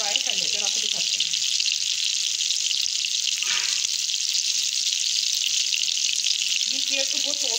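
Chapli kababs frying in oil, Peshawari restaurant style: a steady bright hiss of sizzling oil runs throughout, with a voice speaking briefly at the start and end.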